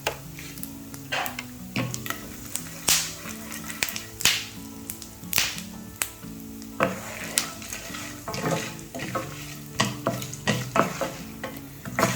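A spoon repeatedly scrapes and stirs ground masala with asafoetida frying in hot oil in a pan for brinjal masala rice, sharp rhythmic strokes over a steady close sizzle with no talking.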